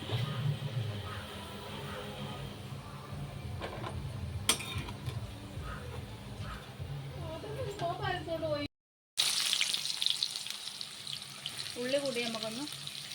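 Ingredients for chicken biryani fry in a pan until brown, a low continuous sizzle with occasional clinks, heard under a person talking.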